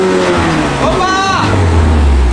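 A car engine revs hard at close range, its pitch climbing then swooping and settling into a deep low drone, with a voice speaking over it.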